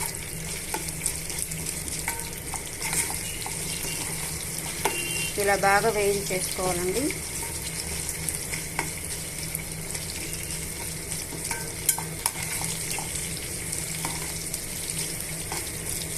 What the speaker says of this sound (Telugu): ఈ పోపునంతా కూడా బాగా వేయించేసుకుంటాము